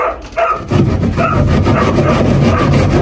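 Hand saw cutting wood while building a dog whelping box: steady, rasping back-and-forth strokes, loud and close, running continuously with no talking.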